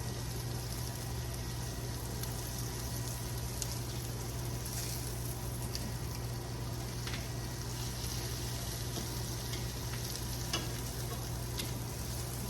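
Turkey burgers fry on top of a bed of onions in a pan, giving a steady, close sizzle with small crackles and pops that runs unbroken from start to finish under a low constant hum.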